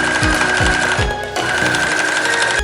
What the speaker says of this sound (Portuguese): Eu vou passar a costura aqui